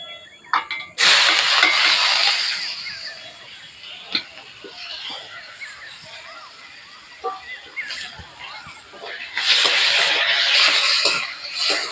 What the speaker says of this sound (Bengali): ওই তেলের মধ্যে কুচনো পেঁয়াজ দিয়ে দেবো